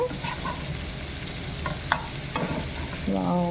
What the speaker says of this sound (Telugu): మనకి రొయ్యలు ఒక సైడ్ అయితే ఫ్రై అయిపోయాయి ఇంకొక సైడ్ కూడా తిప్పుకుందాం ఇప్పుడు